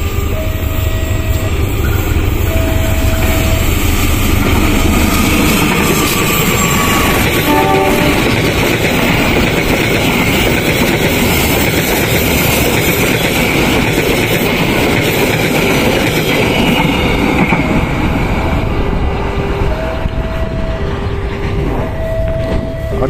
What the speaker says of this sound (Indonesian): KA Sri Tanjung udah melintas di stasiun Randuagung atau di JPL 76